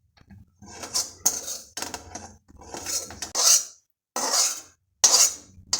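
Roasted coconut scraped out of a wok onto a metal plate with a spoon, a series of close, bright scraping and clinking bursts separated by short pauses, with no voices.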